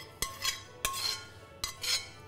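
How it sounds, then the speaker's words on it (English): A spoon scoops cooked parsnips from a pan into a jug, making three separate metallic clinks each followed by a soft scraping slide, close and moderately quiet. "we're just going to spoon the parsnips"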